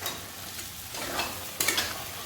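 Kabuli chana fry in a pan with tomato for a ghugni, with a close sizzle and a few quick stirring scrapes over a brief moment.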